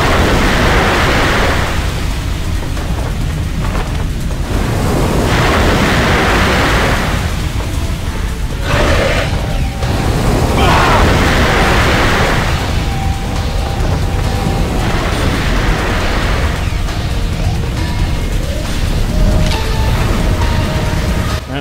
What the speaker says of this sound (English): we have to get through this gauntlet of waves again